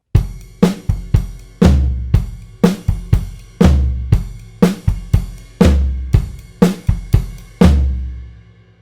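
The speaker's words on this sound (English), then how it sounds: "So you're playing a flam between the snare drum and the floor tom." Drum kit flams split between snare drum and floor tom, loud close doubled hits repeated in a steady pattern, each letting a deep boomy tail ring out, with no talking.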